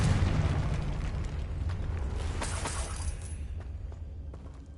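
A Confringo spell explosion from the video game Hogwarts Legacy: a heavy booming blast at the start with crackling, shattering debris that trails off and fades over a few seconds.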